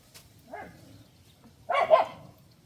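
A couple of short puppy barks or yips, one faint and then a louder one, nearby with quiet between them.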